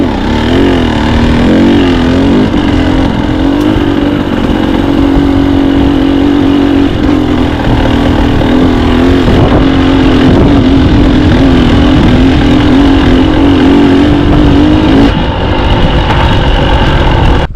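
A Husqvarna TC250 two-stroke dirt bike climbs slowly up a rocky desert hill, its engine burbling steadily at low revs with small pitch rises and dips, loud and close throughout.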